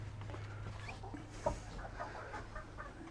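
Chickens cluck in a coop on a farm, scattered soft calls over a low steady hum, with one sharper cluck near the middle.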